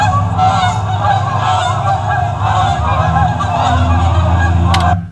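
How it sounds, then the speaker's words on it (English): A large flock of about fifty geese flies over a house, their honks overlapping in a steady, loud chorus across the whole stretch before cutting off abruptly at the end. "there were like 50 geese flying over our house"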